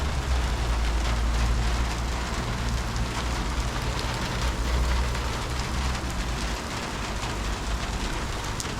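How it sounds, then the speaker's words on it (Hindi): Heavy rain pours down in Madina, a dense, continuous hiss and patter of water striking surfaces, loud and steady with a low rumbling undertone and no talking. "मदीना मुनव्वरा में बारिश हो रही है।"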